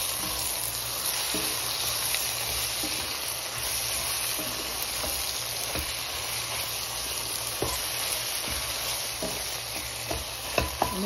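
Okra and onions sizzling steadily in a hot pan while being stirred, a constant frying crackle with occasional scraping clicks from the stirring utensil, close and with no voices.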